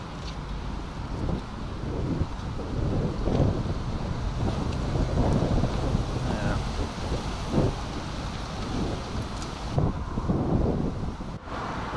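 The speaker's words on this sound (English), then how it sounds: "if we can hear the audio with this is like as windy as it gets pretty much" Strong wind blowing at Estepona beach in Spain, a loud, continuous low roar of gusts buffeting the microphone for the whole stretch, with no talking.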